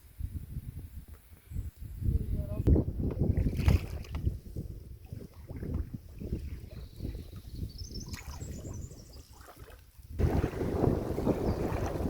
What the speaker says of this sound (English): This headwind has got us to the point where we're almost not moving.